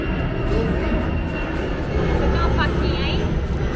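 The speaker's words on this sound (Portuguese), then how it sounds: "É uma rota de avião." An airplane flies overhead along a flight route above a house, a steady, broad rumbling roar that holds throughout at moderate loudness, with faint voices in the background.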